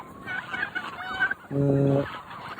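Roosters call on a poultry farm that keeps turkeys, with scattered chattering bird calls first, then one loud, sustained, harsh call close by against a quiet background.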